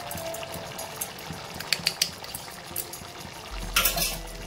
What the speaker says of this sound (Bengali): ভালো করে সমস্ত উপকরণ আমি মিশিয়ে দিচ্ছি